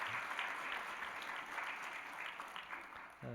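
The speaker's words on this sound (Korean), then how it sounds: "우리 박수로 한번 환영할까요?" A church congregation applauds to welcome back a teacher returning from service in Cambodia, a continuous even roll of many hands clapping in a large room, heard from some distance.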